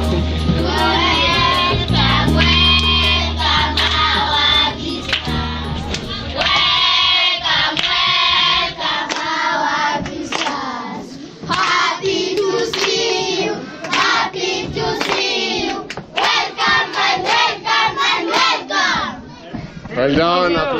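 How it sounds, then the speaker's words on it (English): Children in a Kenyan school classroom clap and cheer loudly, many young voices shouting and chattering over bursts of hand claps, continuing energetically throughout. "Well done, applause."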